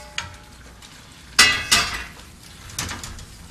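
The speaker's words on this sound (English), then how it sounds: "And then we're going to add the mushrooms, stir them around" A utensil scrapes and knocks against a cooking pan while mushrooms are stirred for a wild mushroom risotto, giving a few sharp clanks over a quiet background.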